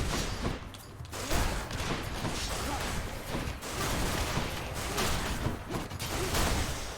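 Explosions and rapid combat blasts from the action game Hades burst repeatedly as bombs blow up enemies, a dense clattering flurry of hits and whooshes that runs throughout at moderate volume.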